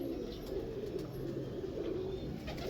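Soft, steady low cooing from pigeons, continuous and close, with a faint background hum.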